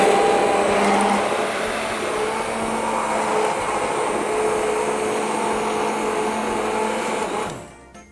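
Electric mixer beating chocolate mousse cream with culinary cream, a loud steady whirring drone that holds for several seconds and then winds down to silence.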